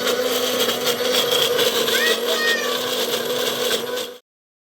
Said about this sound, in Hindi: जो मैं मिक्सी में ग्राइंड कर रही थी वो था सौंफ, थोड़ा सा वाइट कलर का जो सरसों आता है वो, और हल्का सा जीरा